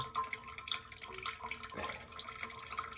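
Water trickles and drips from a Brondell Fresh Spa bidet during a leak repair, a faint steady wet patter close by with a small splash partway through.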